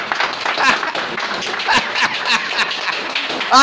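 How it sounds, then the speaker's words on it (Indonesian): An audience claps along in a dense, steady patter through the whole stretch, with a few louder bursts and some chuckling mixed in, over a lively crowd at a police gathering. "Tepuk tangan dulu persahabatan kita"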